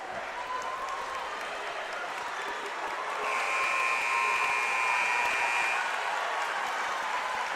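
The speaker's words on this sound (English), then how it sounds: "as they come back out to the floor with a thunderous applause" A dense, steady roar of crowd applause in a high school boys' basketball gym during a district semifinal, swelling noticeably louder partway through and holding there.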